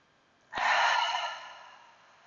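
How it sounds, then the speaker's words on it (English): A single deep breath released as an audible sigh during a guided breathing exercise, a soft, close breathy exhale that starts suddenly and fades slowly, alone without talk. "inhale deeply through your nose. And exhale, sigh your breath away"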